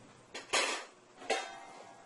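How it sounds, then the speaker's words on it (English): A lid set onto a cooking pot of Caribbean-style striped bass stew, two close metallic clatters about a second apart, each ringing briefly before fading. "So right now I'm going to cover my pot."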